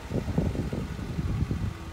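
Ford Puma car engine turning over and catching, a steady low rumble with uneven pulses running close by for about two seconds, no voices.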